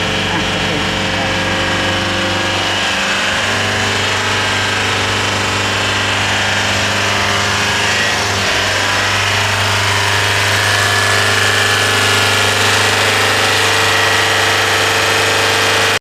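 A car engine runs steadily at about 3,000 rpm, a constant droning hum with a slight shift partway, close and loud, with no talking.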